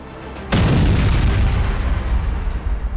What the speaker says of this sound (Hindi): तेहरान पर बम बरस रहे हैं, इजराइल पर मिसाइलें गिर रही है